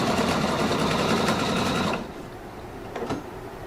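A Pfaff Quilt Expression 720 sewing machine stitching ribbon runs in a steady, close whir for about two seconds, then stops, leaving quiet room sound with a couple of small clicks.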